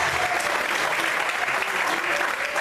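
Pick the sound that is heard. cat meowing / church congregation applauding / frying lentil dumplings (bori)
church congregation applauding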